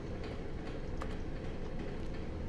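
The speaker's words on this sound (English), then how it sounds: "Why does it sound like a train?" Low, steady rumbling like a passing train rolls through a quiet office building scene in the video game The Stanley Parable, with faint ticking clicks scattered on top and no voices.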